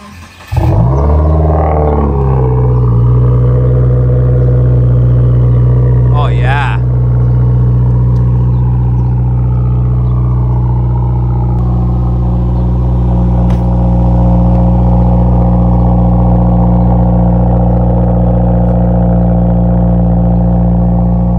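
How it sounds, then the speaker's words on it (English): Subaru WRX STI on E85 turbo setup cranking over and catching in a cold start, settling into a loud, steady, lumpy high idle close by with a brief rev blip partway through. "We're going to give it a little cold start for you guys."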